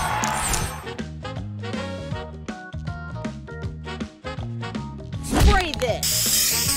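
In the Match Masters puzzle game, a spray booster fires as a brief hissing burst near the end, following bright, steady game music and chime effects.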